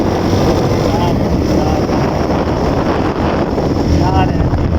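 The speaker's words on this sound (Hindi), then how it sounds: "अब एक मोटरसाइकिल हमारा वो आगे जा रहा है, इस पे हम जा रहे हैं।" Loud, steady wind buffeting the microphone while riding on a motorcycle, with road and engine rumble underneath and no clear speech, continuous throughout.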